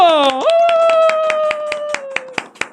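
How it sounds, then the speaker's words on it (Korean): An audience at a youth counseling event claps in a quick, even rhythm under a loud, sustained voice, with the claps growing sharper once the voice stops. "박수!"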